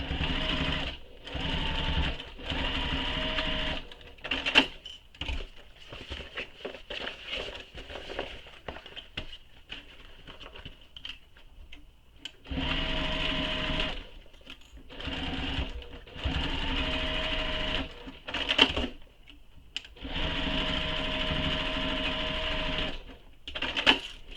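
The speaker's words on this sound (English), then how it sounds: "like to stitch over that seam just to be extra secure." A sewing machine stitches over a bag seam in several bursts of close, rapid mechanical whirring, separated by short pauses and small clicks.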